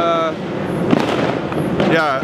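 New Year fireworks at midnight ringing in 2018: a run of bangs and crackling bursts, some distant, with voices heard at the start and end.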